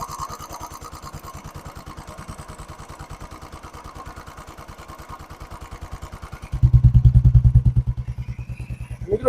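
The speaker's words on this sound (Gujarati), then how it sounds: "ઓરિજિનલ અવાજ છે બુલેટનો." Royal Enfield Bullet motorcycle engine idling close to the microphone, an even, rapid thumping beat that runs steadily and then grows louder and deeper near the end, heard alone without speech.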